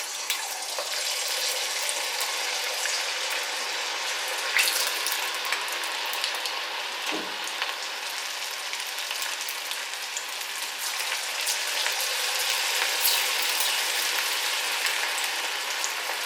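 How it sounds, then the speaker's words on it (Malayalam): Purple cauliflower florets deep frying in hot oil in a small wok for Gobi Manchurian dry, a continuous loud crackling bubble with fine popping, close and steady with no talk. "ഇനി അതിലേക്ക് നമുക്ക് ഓരോരോ കോളിഫ്ലവർ എടുത്ത് അങ്ങ് വറുത്തെടുക്കാം"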